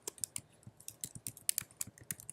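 Rapid, uneven keystrokes on a computer keyboard as a website address is typed in, a close run of crisp clicks with no talk.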